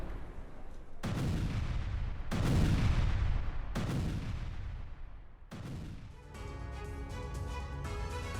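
Gunfire from an attack by Ukrainian paratroopers comes as a series of heavy booming blasts about a second apart, each decaying into rumble, followed near the end by rapid rattling bursts.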